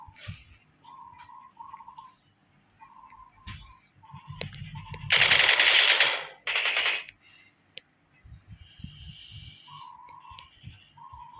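Gunfire in a first-person shooter video game comes as two loud, rapid bursts amid quieter game effects and short tones.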